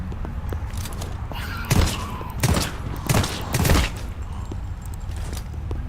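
Video game gunfire: several sharp, loud bursts of shots in quick clusters over a steady background rumble, with no talk over them.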